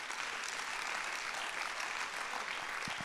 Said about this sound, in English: why don't you clap your hands?